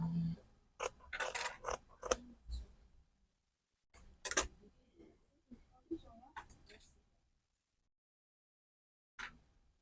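Scissors trimming excess fabric, a handful of sharp close snips in short clusters separated by quiet gaps, with a soft voice at times.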